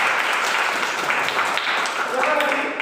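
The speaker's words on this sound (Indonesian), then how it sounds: "Berikan tepuk tangan." Students in a classroom give a short burst of applause, a continuous patter of clapping over a few seconds with a voice starting to speak near the end.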